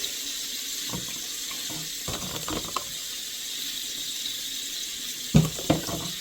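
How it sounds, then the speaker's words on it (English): A sink tap runs steadily while hands are washed beneath it, with faint rubbing and a few clunks and clicks from handling the faucet. "Very first step, we're going to wash our hands."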